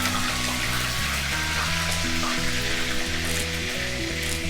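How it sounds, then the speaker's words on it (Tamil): Fennel seeds and green chilies frying in hot oil for masala paniyaram, a steady dense sizzle with crackling throughout, close and continuous with a faint tonal hum beneath. "சோம்பு பொரிஞ்சிட்டு இருக்க இதே நேரத்துலேயே நம்ம பச்சை மிளகாய் ஆட் பண்ணிக்கலாம்."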